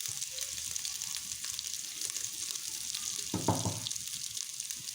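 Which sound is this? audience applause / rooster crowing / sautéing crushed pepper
sautéing crushed pepper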